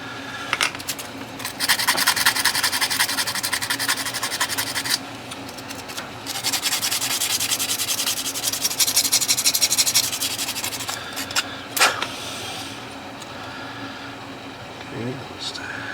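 Hand file rasping along the sides of a plastic AMT 1963 Corvette model kit chassis, steady scraping strokes in long runs with a short break, close up and fairly loud.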